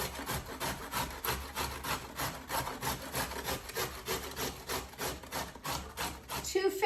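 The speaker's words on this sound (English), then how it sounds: "you just want to grate them up on a box cutter like this one" Carrots rubbed steadily up and down a box grater, a quick regular rasping stroke repeated about a dozen times, close and fairly soft, with a brief clatter at the end.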